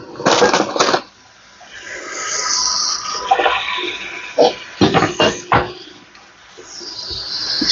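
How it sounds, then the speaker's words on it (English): Tap water runs into a cooking pan in a home kitchen, a hissing splash that starts and stops several times. Brief clanks and clatter come between the bursts. "Just fill this pan up and get some water"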